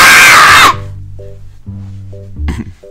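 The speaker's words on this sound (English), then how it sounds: "That's the pun scream. We scream when we make a pun." A loud, close human scream, made as a joke after a pun while playing Dr. Panda's Restaurant 2, cuts off abruptly and gives way to quiet game music.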